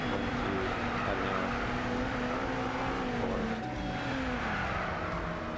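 Race cars from Gran Turismo Sport on the Nürburgring Nordschleife drone steadily at close range, with a continuous engine tone shifting in pitch through the whole stretch and no pauses.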